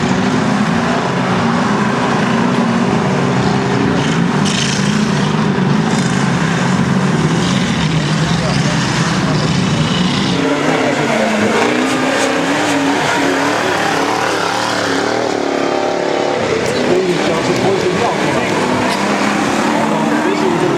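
Rally car driving with engine trouble, a loud roaring motor that rises and falls unevenly with rough surges and tyre noise, while an announcer talks over it.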